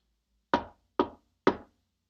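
Three firm knocks on a door sound in a steady, evenly spaced sequence, close and crisp against silence.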